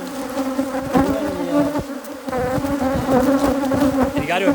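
Africanized hybrid honey bees buzz loudly and densely at an opened, disturbed hive, a close, wavering swarm drone filling the whole stretch without speech.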